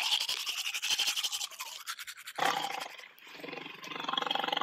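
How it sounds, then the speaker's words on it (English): A tiger roars in a loud, close, raspy burst with a pulsing rumble, then a second roar follows, sustained and rough, with no talking. "Tiger."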